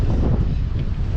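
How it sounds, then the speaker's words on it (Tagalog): Strong Amihan season wind over open rice fields, buffeting the microphone as a dense, continuous low roar for a brief moment, with no other sound standing out. "lakas ng hangin ngayon"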